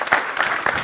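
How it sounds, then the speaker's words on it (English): Brief applause from an audience at a developer tech talk on serverless computing, a short burst of clapping with bright rhythmic peaks, fairly close and steady. "Round of applause for Danilo."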